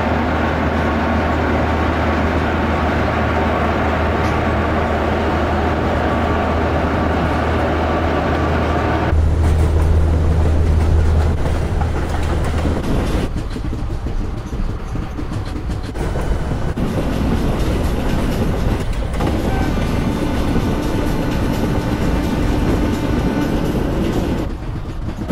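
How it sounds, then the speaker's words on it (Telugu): The Garib Rath Express (train 12202) runs in Train Simulator Classic with a loud, steady rolling rumble and rhythmic clickety-clack of wheels over rail joints, and the tone shifts partway through. Nobody speaks. "మన ట్రైన్ అయితే గట్టే పరిగెట్టేస్తున్నట్టు అని చూస్తుంటే"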